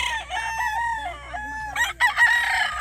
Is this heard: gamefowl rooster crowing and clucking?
yes